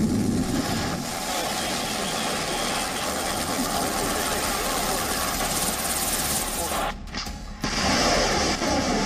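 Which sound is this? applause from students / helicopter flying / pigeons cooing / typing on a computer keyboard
helicopter flying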